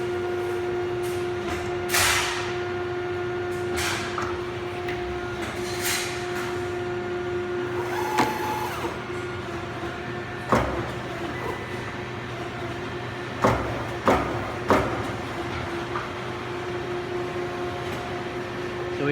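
A Euromac CNC punch press hums steadily while it repositions a sheet, with scattered mechanical clunks and a few sharp, close knocks from the sheet and clamps moving. No voices are heard.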